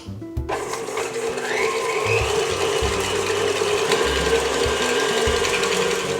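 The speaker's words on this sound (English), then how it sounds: "If you have a mixer, go ahead and use a mixer." An electric stand mixer works a sticky, sweet conchas bread dough, giving a steady mechanical whir with rhythmic knocking and ratcheting as the dough slaps around the bowl, loud and continuous with no talking.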